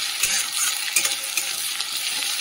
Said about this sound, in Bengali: আদা রসুন বাটাটা একটু তেলে নাড়িয়ে নিই